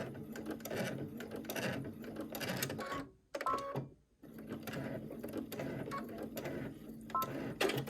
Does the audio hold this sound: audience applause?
no